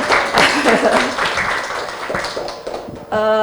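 Scattered audience clapping at a World Cancer Day breast cancer awareness event, mixed with voices talking, followed by a short steady tone at the end.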